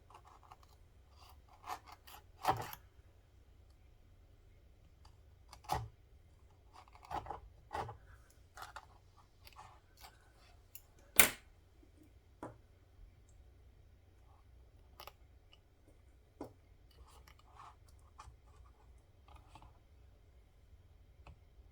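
Scissors trimming the bottom edge of a glued paper page, scattered crisp snips with quiet gaps between cuts, close up and without talk.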